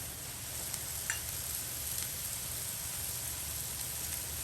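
Soy sauce poured into a pan of chicken frying for lettuce wraps gives a steady, moderately loud sizzle with a faint crackle and a couple of brief stirring clicks, with no talk over it.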